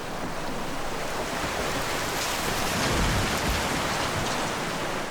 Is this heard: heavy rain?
yes